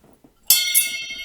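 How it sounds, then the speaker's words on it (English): A ring bell is struck too hard during a wrestling show review, giving one sudden bright clang that rings on and slowly decays. Faint low murmurs come just before the strike. "I hit the bell too hard that time."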